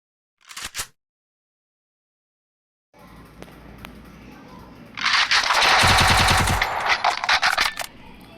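Gunfire from a UMP and a shotgun in the video game Free Fire. A short burst is followed by silence, then quieter shots, then a loud sustained volley of rapid fire that fades near the end.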